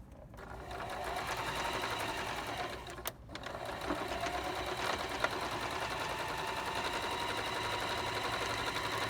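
A sewing machine stitching the overlapping seam edges of band PPE, a fast continuous mechanical chatter running close and steady, with one brief pause partway through.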